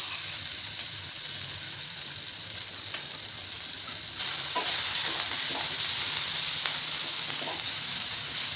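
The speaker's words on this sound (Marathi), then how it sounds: "मोहरी तडतडलेली, त्यामध्ये आपण बनवून घेतलेला ठेचा घालायचा।" Chilli thecha hits hot oil with crackled mustard seeds, bursting into a loud, steady sizzle midway after a quieter hiss, with faint stirring scrapes under it.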